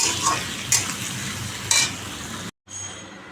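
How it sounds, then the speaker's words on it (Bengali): Onions frying in a pan with spices, a sizzling hiss punctuated by a few sharp scrapes of stirring, close and steady, with a brief dropout near the end. "একটু পেঁয়াজটা লাল লাল হয়ে গেছে"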